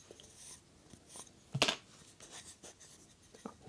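A pencil marks a piece of wood in a workshop with a few soft scratchy strokes and one sharper, louder scrape partway through, all quiet and close, with no talking.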